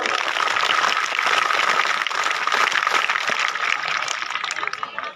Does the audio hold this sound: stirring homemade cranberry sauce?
no